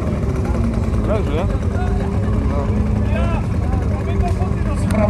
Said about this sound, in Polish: Silnik w tak zwanym dwusuwowym cyklu pracy.